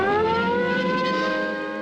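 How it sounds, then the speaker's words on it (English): A Cold War civil defense siren mounted on a tall building's roof in Florida sounds a loud, steady wailing tone with rich harmonics, holding for the whole stretch and only slightly fading toward the end. "Florida built a number of sirens on the roofs of tall buildings to warn the public when the communist missiles were coming"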